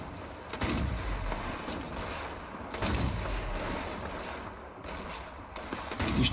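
Bursts of gunfire in Sniper Elite 4 crack out in quick clusters, several sharp shots with echoing tails over a continuous background din.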